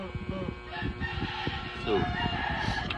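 A rooster crows close by, its rising call cutting across a man's ongoing speech, with faint clucking from chickens in the background.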